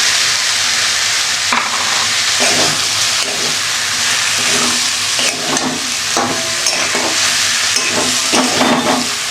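Lentils and grated coconut fry in a pan for a vegetarian dish, with a loud, steady sizzle close by and repeated scraping stirs throughout.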